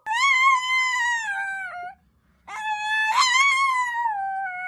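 A dog howls in long, rising and falling wails, one sustained howl, a short pause, then another drawn-out howl, loud and close with no other voices.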